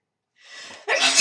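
One human sneeze, close to the mic: a rising indrawn breath, then a sharp, loud burst, with no talking around it.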